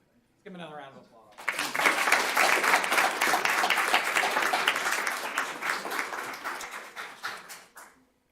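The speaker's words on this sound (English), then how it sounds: "Give him another round of applause." A board meeting audience applauds a student: a brief voice, then a burst of clapping that swells quickly, holds steady and fades out near the end.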